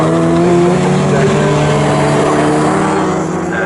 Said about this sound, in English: And into the pit lane, because the pit window is open already, comes the first of what should be a scheduled pit stop.